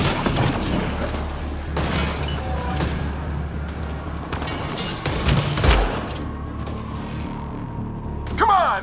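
Enemy gunfire in Mass Effect: Andromeda, with repeated loud bursts and booms scattered across a steady game soundscape, ending in a sharp rising effect.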